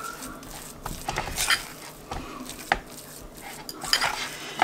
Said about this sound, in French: Moi je vais rajouter une belle poignée de graines de tournesol.